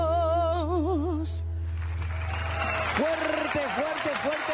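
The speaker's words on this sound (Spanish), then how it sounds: "Fuerte, fuerte, fuerte los aplausos" A concert audience claps for an orchestra at a Christmas marathon show. A sustained sung note fades out, then a dense wash of applause builds and continues while a voice talks loudly over it.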